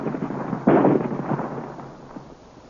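Battery of sci-fi ray cannon firing at a rock in an old serial, a sudden loud crackling blast with rumbling bursts that fade over a couple of seconds.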